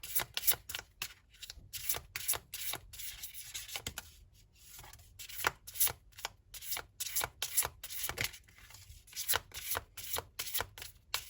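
Tarot cards shuffled by hand close up, a rapid, uneven run of crisp riffling swishes and soft slaps that keeps going with no talk.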